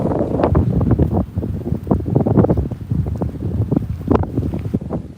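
Wind gusts buffet the microphone by the water on a fishing spot, a constant roaring rumble that swells and dips in uneven gusts, with no voices.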